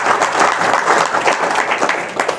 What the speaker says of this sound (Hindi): सभी जोरदार ताली बजाएंगे।